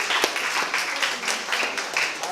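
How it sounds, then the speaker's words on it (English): A youth conference audience claps for itself, a brief burst of scattered, lively applause of moderate loudness with no speech over it. "So round of applause for yourselves."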